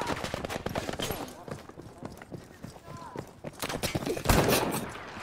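Gunfire from Battlefield V: rapid cracks and bursts of shots scattered throughout, with a louder, heavier blast near the end over a busy battlefield background.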